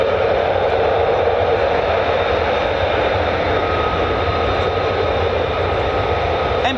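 An F-35A fighter jet roars with a steady, loud, broadband engine rush that holds without letup, heard at a US Air Force base.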